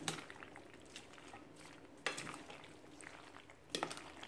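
A spoon stirs and folds Russian salad with fruit cocktail in a bowl, making soft wet squelches with scattered clinks against the dish and a few sharper knocks, close and fairly quiet, with no talking.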